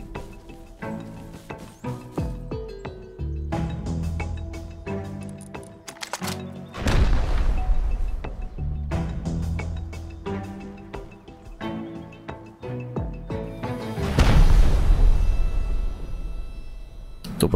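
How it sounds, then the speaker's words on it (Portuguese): Bursts of gunfire and heavy thumping impacts from a raid in the video game Rust repeat over a busy mix, with two louder explosive surges standing out. "Aproveitando o som dos disparos."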